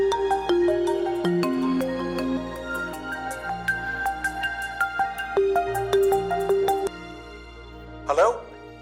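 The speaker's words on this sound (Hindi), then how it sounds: "तो देखिए इसमें किसी अजीज की कॉल आ रही है शायद इसके।" A mobile phone ringtone plays a bright electronic melody of repeated tones in a TV drama scene, loud and close, ending with a brief voice.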